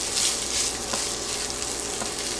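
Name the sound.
rice toasting and sizzling in a pan for Spanish rice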